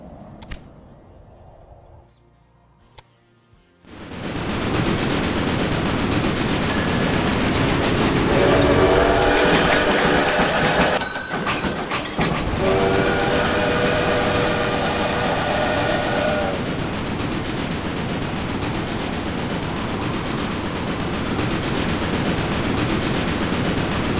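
Trains in the railway-building video game Railway Empire rumble past after a quiet opening, with rolling wheel clatter, a couple of horn blasts midway and a steady loud chug continuing to the end, with no talk.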